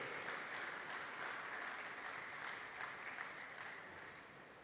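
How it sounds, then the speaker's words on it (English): Audience applause for the show's organizers at a New Zealand dairy event, a steady, even wash of many hands clapping that stays fairly faint and distant throughout, fading slightly toward the end. "we should give the organization a big round of applause"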